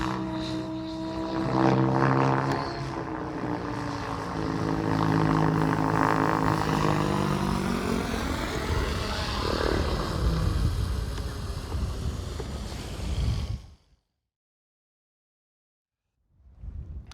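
A small RC helicopter's rotor whirs loudly, pitch sweeping and winding down as it descends in autorotation, then cuts to silence before faint engine noise returns.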